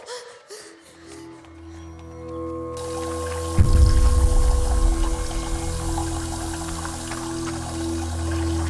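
Water bursting from a broken pipe in a Malayalam comedy film scene sets off a loud, rushing gush about midway through, heavy and rumbling, then keeps pouring steadily after a quieter tonal stretch.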